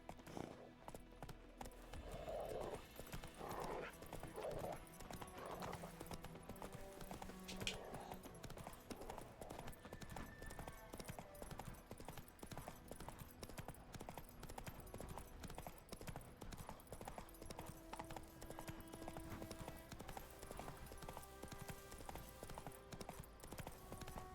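Roach the horse's hooves clip-clop in a steady walking rhythm in The Witcher 3, close and continuous, with an occasional snort and faint game ambience underneath.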